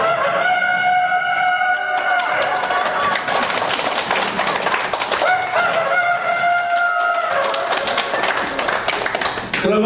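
Comedian vocally imitating a rooster crowing during a performance at a nursing home, several long drawn-out crows with rising and falling pitch, loud and close, repeated in succession.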